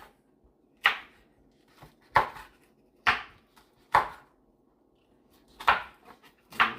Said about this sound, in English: Alright, we're still chopping.